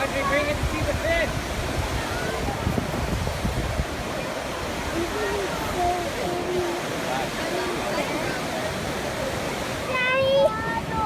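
A waterfall near a pond gives a steady, close rushing hiss of falling water, while people talk over it intermittently throughout.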